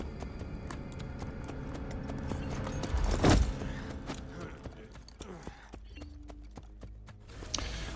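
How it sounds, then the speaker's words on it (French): Horse hooves clip-clop in Assassin's Creed Brotherhood, a galloping rhythm under game ambience that swells to a loud close pass midway and then fades away. "Au revoir le cheval."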